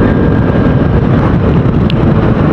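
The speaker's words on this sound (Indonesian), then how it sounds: "Anginnya kenceng banget nih dari samping kiri saya nih." Heavy, unbroken wind roar from a side crosswind blasting the microphone while riding a Yamaha XMAX scooter at speed, very loud and dense, with a low engine-like rumble underneath.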